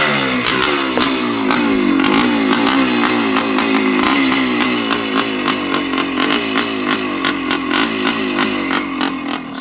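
A Montesa 360 VB big-bore two-stroke motorcycle engine runs loud and close, with a steady, crackling, rapid-fire exhaust beat and clattery mechanical noise throughout, no talk.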